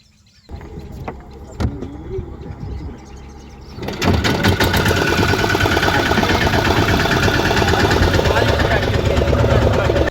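Engine of a small fishing boat heading out to sea, a few knocks and starting noises, then a loud steady rumbling drone from about four seconds onward, running close and continuous.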